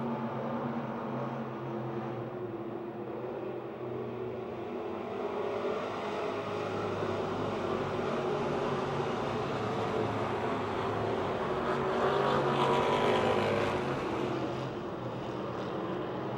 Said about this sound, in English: Close racing down the back chute.